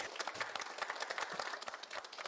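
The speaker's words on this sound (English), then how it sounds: "We have already heard the clapping from the JAXA Mission Control Center." Applause from the JAXA mission control center after an H3 rocket launch carrying the QZS-7 Michibiki-7 satellite, a faint, dense patter of many hands clapping steadily, heard at a distance and low in level.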